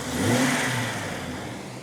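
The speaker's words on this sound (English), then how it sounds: "The XJ is running." Rebuilt 4.0-litre engine in a Jeep Cherokee XJ running steadily after replacement, a mid-pitched hum that swells briefly near the start and then settles into an even run, fairly close with no talk.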